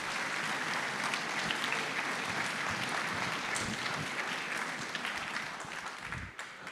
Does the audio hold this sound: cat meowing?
no